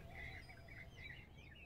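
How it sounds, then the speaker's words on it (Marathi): Several peacocks call among coconut palms in the early morning, sending faint, distant tonal cries that rise and fall in a few short bursts over a quiet outdoor background. "पाच सहा मोर आहेत"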